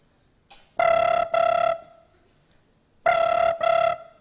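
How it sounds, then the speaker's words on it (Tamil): An ordinary telephone rings in two double bursts, each a pair of loud electronic tones close to the microphone, with a quiet gap between the pairs and no talking. "இப்போ ஆர்டினரி ஃபோன் ஒன்று அடிக்குது சார்"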